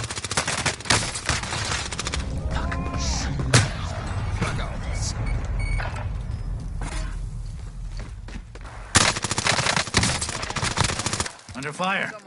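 Gunfire on the Fortune's Keep map of Call of Duty Warzone sounds as scattered sharp bursts of shots, some close and loud, amid ongoing game ambience and movement noise.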